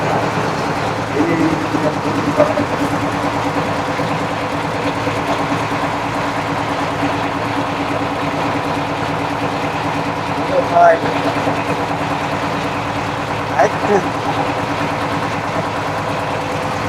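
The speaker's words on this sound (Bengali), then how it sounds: "এটা আছে আপনার ইঞ্জিন রুম" Continuous droning engine hum with a steady low throb, heard up close in a passenger boat's engine room on a river route, with scattered faint voices and a few knocks.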